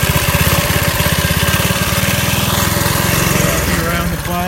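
Vintage mini bike with a 2hp Briggs & Stratton engine running on a cold day, a loud, close, steady rapid putter like a small lawn mower that falters slightly at the end.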